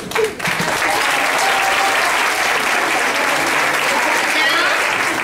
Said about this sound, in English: Please give an applause to the narrators.